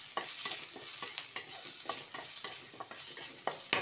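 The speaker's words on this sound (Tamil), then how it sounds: "தக்காளி நல்லா வதங்கட்டும்." Chopped tomato sautéing in a pan gives a soft, steady sizzle, with a spoon stirring and scraping in quick, regular strokes close by and no voices.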